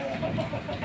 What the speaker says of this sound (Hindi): मुर्गा मुर्गी को देखिए।